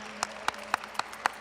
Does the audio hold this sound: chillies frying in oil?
no